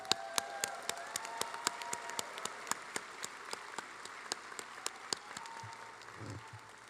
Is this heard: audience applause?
yes